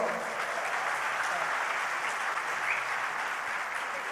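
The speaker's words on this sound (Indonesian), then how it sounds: "Kita berikan aplaus." Audience applause at a business association national meeting with a president and ministers in attendance, a steady, dense clapping that holds evenly for the full stretch with no voices over it.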